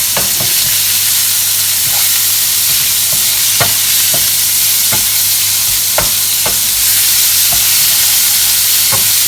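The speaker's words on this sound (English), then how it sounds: "add your bacon in, just properly diced bacon in with your sprouts." Diced bacon and brussels sprouts fry in a pan with a loud, constant hiss, punctuated by regular sharp clacks from stirring.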